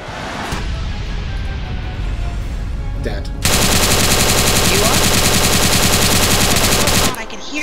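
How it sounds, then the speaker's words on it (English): Automatic gunfire in ARMA 3, with distant rattling shots for a few seconds before a loud, close sustained burst of rapid fire that cuts off abruptly near the end. "Some of those shots went over my head."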